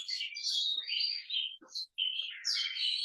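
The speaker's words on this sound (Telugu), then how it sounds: "ఇక్కడ పక్షులు వచ్చాయన్నమాట విండో దగ్గర, అందుకే కొంచెం సౌండ్ వస్తుంది బ్యాక్గ్రౌండ్" Birds chirp and tweet near a window in a run of bright, high calls. The calls come in quick bursts with a short gap, fairly close and alone, with no talk over them.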